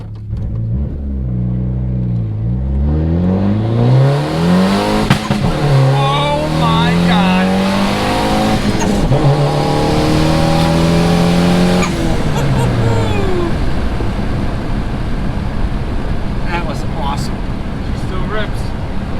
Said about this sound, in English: See if we can get a little first gear pull here.